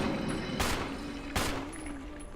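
Gunfire in Resident Evil HD Remaster, two sharp shots about a second apart over a steady game background hum with a faint high tone, no voices.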